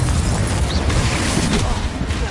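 A Confringo spell blast in Hogwarts Legacy makes a dense, loud, rumbling burst of noise that runs for the whole moment with no clear break.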